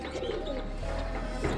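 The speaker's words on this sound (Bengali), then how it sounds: "এখানেও কবুতর আছে, এখানে কবুতর দেখতেছে" Pigeons coo softly in a low, throaty murmur against a constant background hum, several birds close by with no voices.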